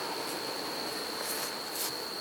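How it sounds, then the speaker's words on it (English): A packed hive box of honey bees during a fall honey harvest, a faint steady buzzing drone with a high whine and brief swells, no talking. "Wall to wall to wall"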